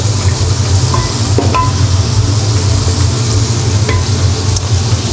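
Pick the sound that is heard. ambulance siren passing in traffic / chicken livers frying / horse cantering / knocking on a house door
chicken livers frying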